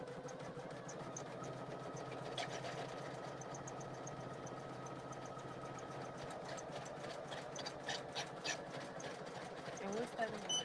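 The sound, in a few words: Poolin single needle embroidery machine stitching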